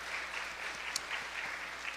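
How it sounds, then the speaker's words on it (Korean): A church congregation gives a short, faint round of applause to welcome students at a Sunday afternoon service, soft even clapping heard from a distance. "박수로 한번 환영하도록 하겠습니다"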